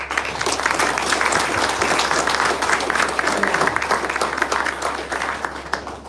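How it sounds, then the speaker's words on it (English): Steady applause from an audience at a ribbon-cutting ceremony for the Ben and Jane Norton Center at Haven, dense crowd clapping sustained evenly throughout with a low constant hum beneath. "Can we give a round of applause to my team?"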